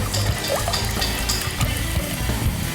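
Water pours onto lentils in a cooking pot for dal, a close, steady trickling splash that runs throughout.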